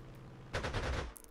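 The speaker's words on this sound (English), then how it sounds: "I'll strafe these guys with my fighter then" Machine-gun fire from a fighter plane strafing ground units in Panzer Corps 2, a short burst of rapid rattling shots starting midway after near silence, fairly loud and heard alone.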